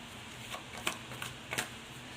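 Tarot cards pulled from a deck and handled, a few soft snapping riffles and shuffles in quick bursts against quiet background, close and faint, with no talking.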